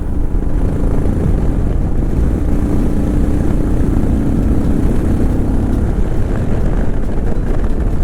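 A modified Royal Enfield Himalayan 411 motorcycle fitted with a Decata exhaust, DNA filter and FuelX runs on the road, its engine a loud, steady drone mixed with heavy wind rush across the whole stretch.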